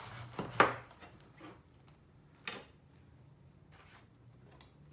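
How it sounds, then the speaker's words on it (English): A knife cutting a cabbage into quarters for sauerkraut, a few sharp crunching chops close by on a cutting board, strongest near the start and then sparse quieter cuts. "I'm going to cut this in fourths now."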